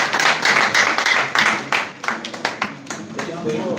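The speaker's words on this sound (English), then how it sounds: "Can you applaud for Gabriel and Michael?" An audience claps for two students at a student defense and birthday gathering. The clapping is loose and uneven, with sharp individual claps and voices talking over it, thinning out toward the end.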